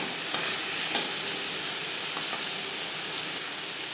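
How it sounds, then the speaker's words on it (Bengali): Pieces of papaya fry in a pan with salt, turmeric and cumin powder, giving a steady close sizzle broken by a couple of sharp stirring scrapes near the start, with no talking. "লবণ হলুদ দিয়ে পেঁপে হালকা করে ভেজে নেব"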